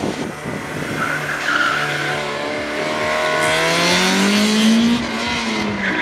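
A small, light Citroën race car skids at a racing circuit, tires squealing in a long rising and falling screech over a loud revving engine, close and continuous with no talk.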